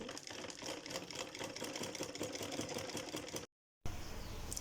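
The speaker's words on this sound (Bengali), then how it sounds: "আমার একটা সেলাই দিয়ে নিতেছি।" A sewing machine stitches a salwar, making a steady, close, rapid mechanical whir and tapping that runs continuously, stops abruptly for a moment, then resumes.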